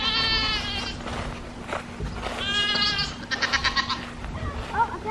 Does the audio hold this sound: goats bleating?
yes